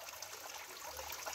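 Water trickles faintly and steadily from a natural spring feeding a pool, a soft continuous wash with no other sounds.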